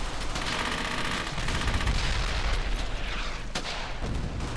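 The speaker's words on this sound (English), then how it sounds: "I want heavy fire on that MG!" Dense, continuous machine gun fire with overlapping bursts and booms fills a battle in the World War II shooter Brothers In Arms: Hell's Highway, loud and sustained throughout with no talk.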